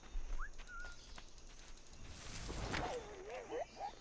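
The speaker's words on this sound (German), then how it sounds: "Jetzt hör doch mal auf mein Pfeifen und komm hier ran." A player character in Assassin's Creed 4 Black Flag whistles to lure a guard: several short, rising and wavering whistled tones near the end, after a brief whistle early on, over faint game ambience.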